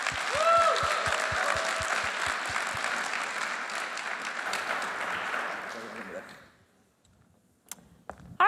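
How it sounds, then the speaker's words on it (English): A demo day crowd applauds a startup team walking on stage, a full, close burst of many clapping hands with some cheering that fades out after about six seconds, followed by near silence and a few faint clicks. "give a huge round of applause for the first team"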